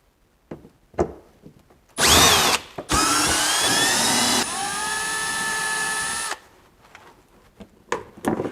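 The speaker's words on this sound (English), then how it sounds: "we need to take off a combination of Phillips head screws and panel clips" A power driver backing Phillips head screws out of a Land Rover LR3 wheel well panel: a loud whirring burst that shifts pitch and then holds steady, with quieter clicks and handling noises before and after.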